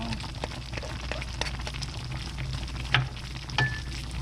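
Onion sizzles in a pan of Korean soybean-pulp stew with garlic, a steady close frying crackle broken by a couple of sharp clinks from a utensil against the pan.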